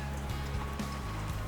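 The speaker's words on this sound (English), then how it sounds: "The rain came back with a vengeance." Steady rain pattering down on a golf course at PGA Golf Club's Wanamaker Course in Florida, a continuous even wash of drops at moderate level with no voices.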